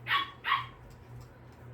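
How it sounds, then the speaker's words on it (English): Dogs bark somewhere nearby: two sharp barks in quick succession, then a low hum and quiet background before another bark starts at the end. "The dogs is always, whenever I'm recording, they seem to always got drama on their end."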